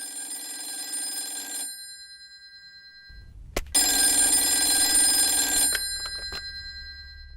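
A telephone rings with bright electronic trilling bursts, a pause between them, and a low hum and a click in the gap, fairly loud and close with no voices.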